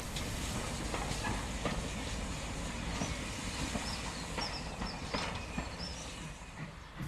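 GWR 0-4-2 tank locomotive No. 1420, a Collett design, coasting toward Staverton on a heritage line, giving a steady rumbling roll of wheels and rail clatter with rhythmic beats, continuous and moderately near with no talk.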